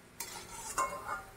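Bread chops fry in a pan: faint background sizzling with a couple of sharp scrapes and clinks as the pieces are turned, quiet and close.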